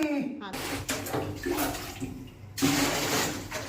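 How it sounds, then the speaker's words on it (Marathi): Steady rushing water, like a bath filling, runs nearby throughout, with a brief voice heard at the very start. "तुला पाण्याचा आवाज येतोय"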